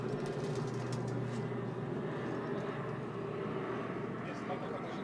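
An airplane passes overhead outdoors with a steady, droning engine roar that holds at an even level throughout, with voices talking over it.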